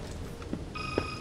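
A telephone rings in Resident Evil 6, a bright electronic ringing tone that starts partway through the short moment, over a low background murmur.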